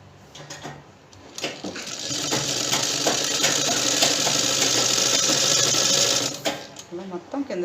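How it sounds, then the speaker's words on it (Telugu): Sewing machine stitching the long side seam of a circular umbrella palazzo pant, a loud steady whirring run of several seconds, with a person speaking briefly at the start and end. "అలా మొత్తం కింద దాకా కుట్టేస్తాం."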